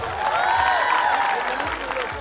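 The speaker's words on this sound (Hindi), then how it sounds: "एक बार उनके जोरदार तालियां" An audience claps and cheers for talented children from an ashram at a school event, a steady wash of crowd applause with a voice speaking over it.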